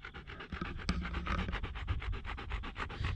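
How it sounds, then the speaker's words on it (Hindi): A Bhotia dog panting rapidly and steadily up close on a steep mountain climb near Gawaldam, Uttarakhand, the rhythmic huffs running continuously without pause. "ये है अपना भोटिया कुत्ता"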